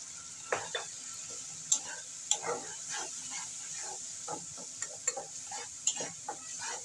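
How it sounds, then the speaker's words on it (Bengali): Spices for a thin chicken curry fry in a pan with a splash of water and chili powder, a spoon scraping and clinking in an irregular rhythm over a faint steady sizzle, close and fairly quiet. "আমি সামান্য একটু জল দিয়ে দিচ্ছি মশলাটা ভালো করে কষানোর জন্য"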